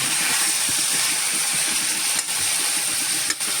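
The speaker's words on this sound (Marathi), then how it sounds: "व्यवस्थित ह्या भाज्या आपल्याला या फोडणीवरती परतून घ्यायच्या आहेत." Vegetables for Mangalore-Udupi style sambar sautéing in hot tempering, a loud continuous hissing sizzle with faint rhythmic stirring knocks underneath and a couple of sharp clicks, heard close with no talk.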